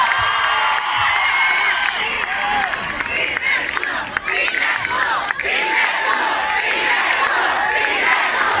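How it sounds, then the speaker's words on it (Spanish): A large concert crowd at a live show in Latin America cheers and shouts continuously, a loud sustained roar with whoops and applause, with no clear talk over it. "fuerte aplauso para Cristian de Guayaquil."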